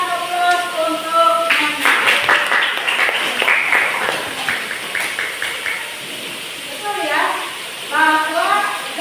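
Applause from students in a Grade 10 classroom, a mix of clapping and chatter rising after a teacher speaks and lasting several seconds, with voices overlapping throughout.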